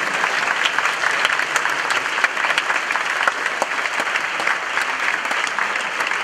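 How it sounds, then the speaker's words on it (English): A school audience gives a sustained round of applause for 8th grade drama students after a music performance, dense steady clapping that fills the hall for several seconds. "Let's have another round of applause for our 8th grade drama students."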